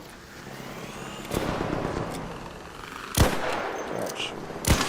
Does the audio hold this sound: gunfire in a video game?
yes